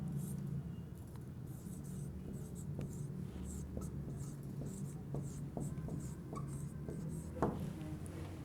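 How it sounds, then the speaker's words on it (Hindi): A pen scratches out an answer by hand on paper in a quiet room, producing a faint, continuous run of small strokes and taps with no speech. "तो हम यहाँ लिखते हैं।"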